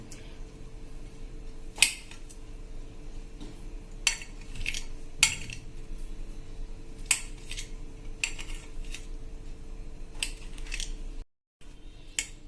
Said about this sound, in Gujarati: આપણે એના નાના એવા ટુકડા કરી લેશું મીડિયમ સાઈઝના